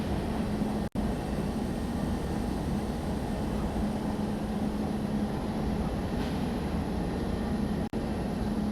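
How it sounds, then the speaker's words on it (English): A train rolls steadily along a scenic Pacific Northwest line with its brakes eased off slightly, a continuous low rumble and hum of wheels and cars holding at an even level throughout, close and without voices. "The brakes are eased off slightly as we glide past marker 1776, bringing the train under more control"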